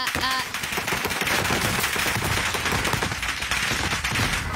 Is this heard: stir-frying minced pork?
no